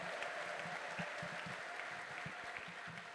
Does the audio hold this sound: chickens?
no